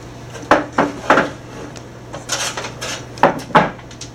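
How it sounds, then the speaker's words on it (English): Lid of a record player being lifted, giving a handful of separate knocks and clunks of hard plastic and hinges, close and fairly loud against a steady low hum. "First I will begin by lifting the lid on the record."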